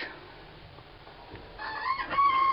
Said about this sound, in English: Look at my original set of chickens.